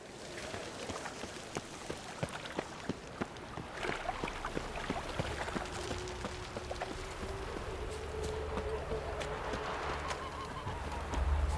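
Geese honk repeatedly in a video game world, short calls scattered over a steady watery, ambient bed, moderately near and continuing throughout with no talk.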